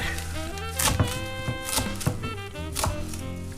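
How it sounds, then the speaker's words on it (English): A knife rough chops a bunch of fresh cilantro, stems trimmed, on a cutting board, giving irregular thunking chops close up at a relaxed pace. "the rest of this I'll kind of rough chop"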